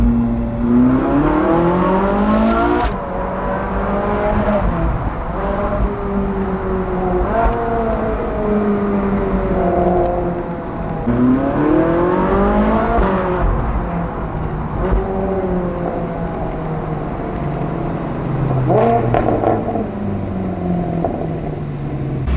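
Engines of a procession of supercars, including a Lamborghini Aventador, driving through the Cotswolds into Broadway; loud, continuous rising and falling revs from several cars close by, with repeated acceleration sweeps and no talk.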